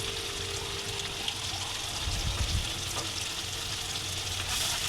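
Ginger-garlic paste, salt, turmeric and red chili powder fry in a pan for a mixed vegetable bhaji, a steady close sizzle with occasional stirring scrapes and no talk.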